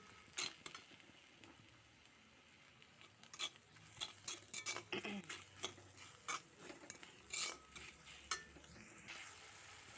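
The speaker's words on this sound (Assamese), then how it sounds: "মছলাখিনি অলপ দেৰি ভাজি ল'ব ধৰিছোঁ" Ground spices with salt, turmeric, cumin and coriander frying in oil in a new iron kadai, a soft steady sizzle under repeated scraping and clinking as a spoon stirs the pan.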